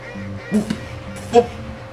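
Synthetic ducks quack in a Leap Motion duck-shooting video game, two short honking calls near 0.55 and 1.35 seconds over a steady tonal game-music background.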